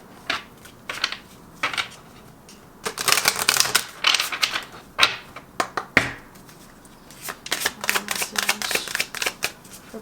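A deck of tarot cards is shuffled close by in quick, papery riffling bursts, followed by snappy flicks as cards are pulled. There is no speech over it.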